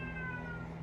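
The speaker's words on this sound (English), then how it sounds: "If you hear my cat meowing," A domestic cat gives a single drawn-out meow, clear and fairly close, with a long tonal wail and no talking.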